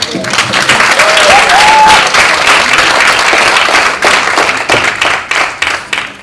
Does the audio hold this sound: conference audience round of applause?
yes